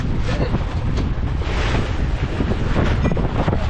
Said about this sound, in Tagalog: Mga bay, grabe, lalaki ng alon.